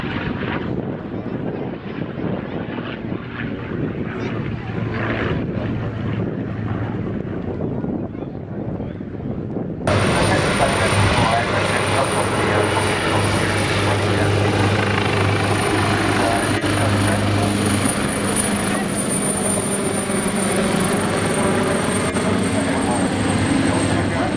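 Yak-52 and Nanchang training aircraft perform at an airshow, their engines giving a steady, rough drone that jumps louder partway through and then holds as a close, continuous roar with wind buffeting.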